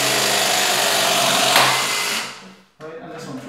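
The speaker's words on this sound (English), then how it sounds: "And I'm gonna clamp it." Powered clamping tool crimping a multilayer pipe connection, a loud steady motor whine that winds down after about two seconds, followed by a short second burst of motor noise.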